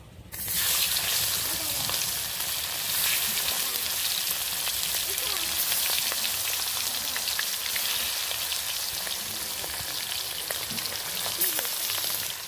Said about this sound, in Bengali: এবার মাছগুলোকে ভেজে নিই।